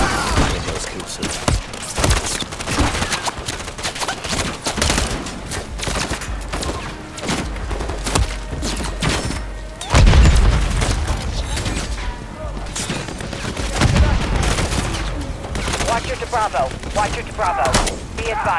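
Gunfire in Call of Duty: Modern Warfare III, dense bursts of rifle shots and heavy booming impacts spread across the whole scene, loud and close, with radio voices talking over the combat.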